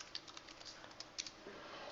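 Someone types an equation on a computer keyboard, giving a quiet run of irregular key clicks with brief pauses and no talking.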